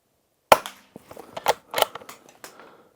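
A Bergara BMR X Carbon rimfire rifle fires a single sharp, close shot, followed by a scatter of quieter clicks and knocks.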